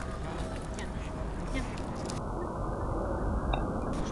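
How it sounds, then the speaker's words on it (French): Ducks quack over a steady outdoor rumble at a harbour in Lagny, with swans nearby, their calls mid-distance and intermittent, with faint voices nearby. "c'est pour donner au canard et au cygne, Nathan."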